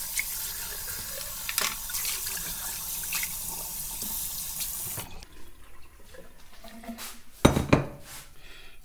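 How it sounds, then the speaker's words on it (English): A bowl used for sourdough dough is rinsed under a running kitchen tap, with a steady rush of water for about five seconds. Then the tap stops, and a few close clunks of the dish against the sink follow. "I like to rinse the bowl out"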